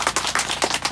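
Applause from a church audience welcoming a retired priest before Mass, rising in uneven bursts of clapping over about a second.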